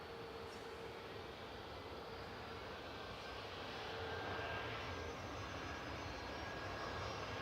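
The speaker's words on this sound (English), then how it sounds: "Ryanair departing in front of us, going to Barcelona with flight 7542." A Ryanair jet departing Manchester Airport for Barcelona, heard as a steady, broad engine roar at moderate distance that swells slightly toward the end, with no talking over it.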